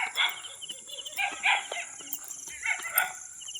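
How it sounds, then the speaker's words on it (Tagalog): Several dogs bark at night near a house in the dark, short yaps scattered across the clip, fairly distant, with insects or birds chirping steadily behind. "May mga aso."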